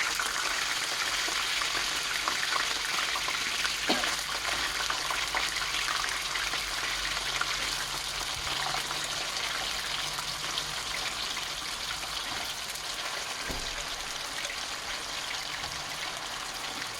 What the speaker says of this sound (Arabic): وبعد كده هبدا ان انا اصفي البطاطس وانزل بالبطاطس في الزيت